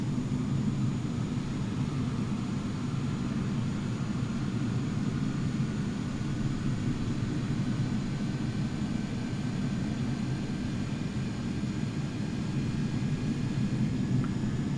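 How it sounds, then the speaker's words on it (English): An airliner's number 1 engine spools up in Flight Simulator 2020, heard as a steady, moderately loud jet rumble and roar with a faint high whine held evenly throughout, with no voices. "we're going to start number 1. You'll see this one start to spool up first."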